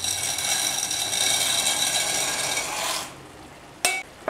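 Macaroni stirred in a pot of boiling water produces a steady bubbling, scraping rush for about three seconds, then fades to near quiet broken by a sharp metallic knock of the spoon against the pot, close and without talk.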